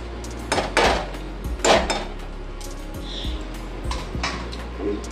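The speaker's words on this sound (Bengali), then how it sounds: "একটু সময় ঢাকা দিচ্ছি আঁচটা কম করে।" A metal lid goes onto a cooking pot over a low flame, with a few close clanks and rattles of pots and utensils, then quieter clinks and a faint hiss, and nobody speaking.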